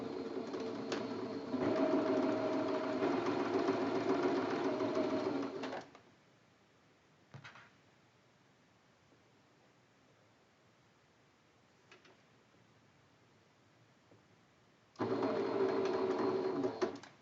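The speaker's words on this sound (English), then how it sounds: "that's the next thing we're going to do is just sew right on that line with the 3" A sewing machine stitches along the seam line of quilt blocks, running steadily for several seconds, going quiet with only faint clicks for a long stretch, then starting up again near the end.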